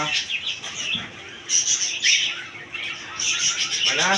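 Bright, chattering calls of mynas at a bird and pigeon market in Kashinathpur, Pabna, Bangladesh repeat in short bursts, fairly close and moderately loud, with several overlapping whistles and chirps.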